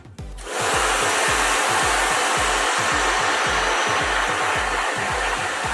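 A hair dryer switches on and blows with a loud, steady roar and a low pulsing hum, close by and uninterrupted.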